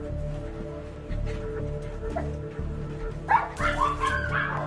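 Small dog barking and yipping from a puppy mill cage, repeated short yaps over a steady low mechanical hum, with a burst of sharper, higher yelps and whimpers near the end.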